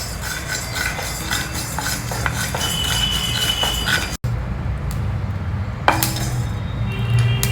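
Fenugreek (methi) seeds are dry roasted in a pan, giving a steady close rattling and clinking from stirring, with a few sharper metallic taps, without talk.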